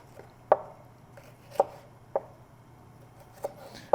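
A knife slicing through a Scotch bonnet pepper on a board, five sharp isolated taps spaced irregularly over a faint background hum.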